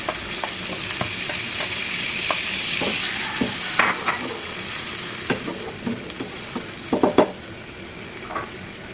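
Lentils sizzle in a hot pan as a utensil stirs them, with soft steady frying under repeated scraping and clinking strokes against the pan, close and moderately quiet.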